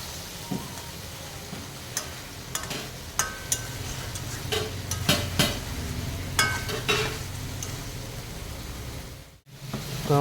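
Pointed gourd (potol) sizzles steadily in spiced oil in a pan, with scattered spoon scrapes and taps on the pan over continuous frying hiss, close and moderately loud.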